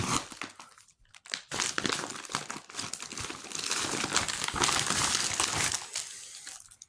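An MRE ration pouch being cut and pulled open, giving a run of close, loud plastic crinkling and crunching that swells into a sustained rustle.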